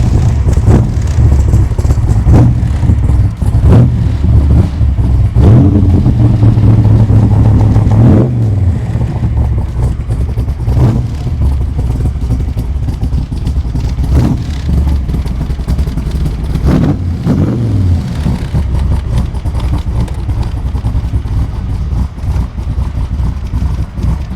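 A 1965 Backdraft Cobra RT4 roadster with a 427 V8 starts and drives off, a loud deep rumbling exhaust with throttle blips and revving surges as it pulls away and cruises, heavy wind and road noise close to the car.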